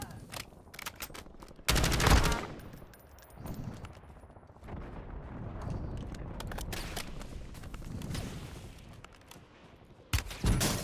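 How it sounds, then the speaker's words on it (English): Enemy gunfire crackles in a Fortnite match, with sharp bursts of rapid shots near the start and again at the end, and scattered fainter shots and footsteps in between. "Incoming Enemy fire."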